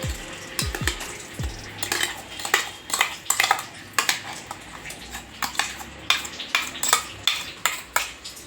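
Blended dragon fruit peel paste scraped from a mixer jar into a bowl with a spoon, a run of sharp, close metallic clinks and taps in an irregular rhythm.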